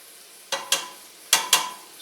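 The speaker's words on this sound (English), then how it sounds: "I want to stir my veggies up on the other half of the pan so we don't get them all overdone" Chicken and vegetables in a pan for a Thai red curry paste chicken curry make quiet scraping stirs that come in two pairs of short swishes, under a faint background hiss and with no talking.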